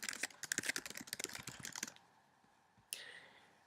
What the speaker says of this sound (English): And I'm going to type in here Unit 1.